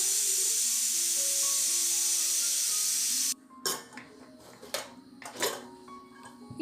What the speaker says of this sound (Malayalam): ഒരു കത്തിയോ സ്പൂണൊക്കെ വെച്ചിട്ട് ആവി മുഴുവനായിട്ടും അങ്ങ് കളയുക